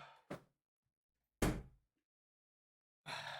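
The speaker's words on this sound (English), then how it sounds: "Let me just close my door." An indoor door is closed with a few separate, close bumps and a latching thud, set apart by silent gaps.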